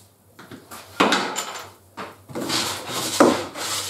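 A wooden miter sled slides back and forth across a saw table, producing close scraping, rubbing strokes with a few knocks and bumps of wood on wood.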